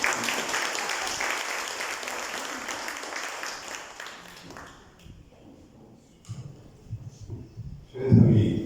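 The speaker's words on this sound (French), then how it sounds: "Sous vos applaudissements." Audience applause welcoming a cardinal at a Caritas book launch, strong at first then thinning out after about four seconds, followed by scattered taps and microphone handling noise, with a brief loud bump near the end.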